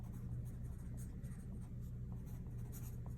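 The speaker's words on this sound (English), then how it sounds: "And I'm going to write this in here." Pen or pencil writing on a chemistry practice sheet, a soft steady scratching that runs the whole time at low level, with no talk over it.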